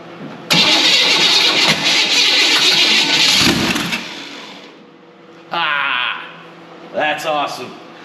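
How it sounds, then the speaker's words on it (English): A long-dormant 1923 T Bucket Roadster engine, left outdoors for years, fed gas down the carb, cranks and roars to life for a few seconds, dies, then a voice speaks and brief bursts of cranking and revving follow. "Let's dump some gas down the carb and see if this engine that's been sitting outside under a tree in the elements for at least 5 years will fire off"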